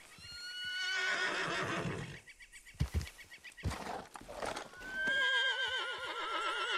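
A horse in the video game Red Dead Redemption 2 whinnies loudly, then a few hoof thuds and snorts, followed by another long, wavering neigh; no one speaks.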